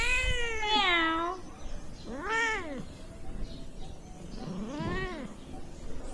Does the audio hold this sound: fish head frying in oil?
no